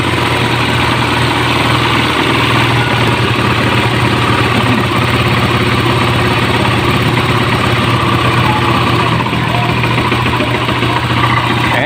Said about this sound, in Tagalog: alis na yung kalasing ng ating motor